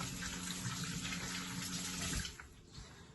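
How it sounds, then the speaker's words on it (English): Hands washed under a running kitchen tap before cooking, a steady splashing stream that stops partway through, leaving faint drips and rustling. "Hand washing. Very important when you're cooking"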